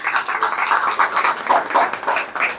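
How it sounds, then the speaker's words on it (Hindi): An audience claps steadily for a teacher at a teacher training session, a dense, even patter of many hands held at close range for a few seconds, with no voices over it. "एक बार और ताली बजाइए मैम के लिए"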